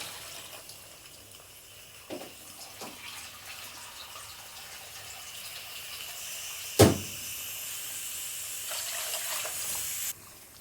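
Water runs steadily from a tap into a pot of rice, a continuous near stream with a few soft knocks and one sharp clunk partway through, no talking.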